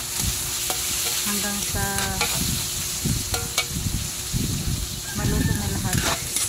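Tomatoes and onions are stirred in a hot frying pan for fish escabeche, giving a steady close sizzle broken by repeated scraping stirs, while a voice talks over the cooking.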